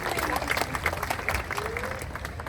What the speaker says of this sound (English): I think you can clap better for them